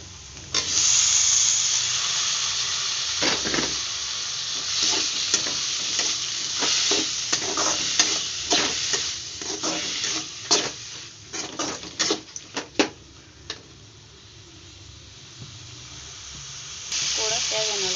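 Onions sautéing in a pan for fish curry give a steady, loud sizzle broken by repeated scraping stirs near the middle. The hiss eases toward the end and then swells again.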